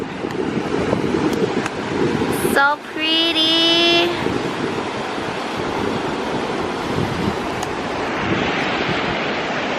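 Ocean surf rolls steadily along a Gold Coast oceanfront walkway, with constant loud wind buffeting the microphone and a brief spoken remark partway through.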